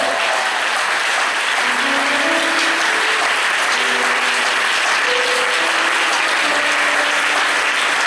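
A church congregation applauds loudly and continuously, a dense wash of clapping hands filling the space for several seconds, with faint tonal sounds drifting underneath.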